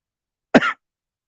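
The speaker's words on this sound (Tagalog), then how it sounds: "Ubo na ako." A single short, sharp cough from one person, close and loud, set against otherwise complete silence.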